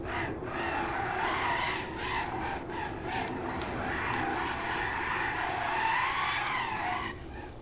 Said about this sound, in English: I spun my toy car out.